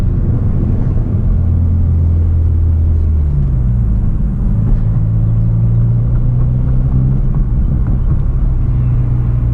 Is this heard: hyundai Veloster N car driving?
yes